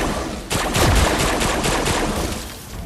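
Rapid automatic gunfire in the video game Fortnite Save The World, a close, loud, evenly spaced string of shots running for about two seconds and then fading.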